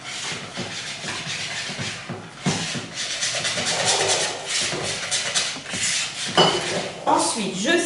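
Utensil clinking and scraping against a bowl while ingredients are stirred together in a home kitchen, a busy run of close, irregular taps and rubs that continues throughout.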